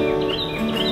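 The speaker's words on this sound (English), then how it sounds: "Did you work the bird into that song?" Bird chirps and tweets ring out over a steady bed of music, bright and fairly close, running through the whole second.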